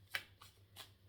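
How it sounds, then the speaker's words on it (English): Tarot cards riffled in a few quick bursts, close and quiet, with short pauses between each shuffle. "So I'm going to cut the cards now."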